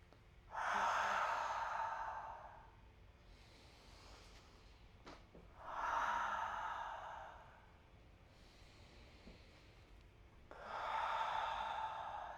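Three slow, audible breaths during energy medicine yoga, each a long breathy exhale or sigh separated by quiet pauses, close and clear with no talking.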